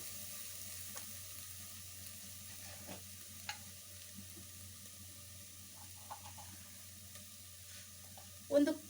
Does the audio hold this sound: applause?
no